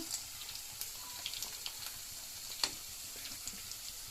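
Ginger and curry leaves fry in hot oil for a Coimbatore-style chicken gravy, making a faint, steady crackling sizzle with scattered small pops and one sharper snap, heard alone without talk.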